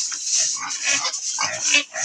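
Pigs in a farm piggery grunt and squeal in a continuous, overlapping chorus, loud and close, with rough shrill cries rising and falling throughout and no talking.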